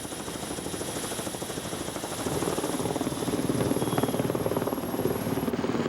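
A helicopter's steady rotor thump and engine drone, fairly distant and continuous, growing slightly louder midway with a faint high whine above it.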